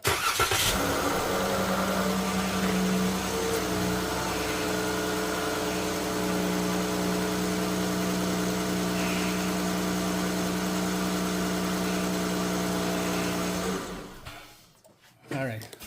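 A Dodge Caravan engine starts and settles into a steady idle with a constant hum and whine after power steering hose work, holding nearly unchanged before cutting off near the end.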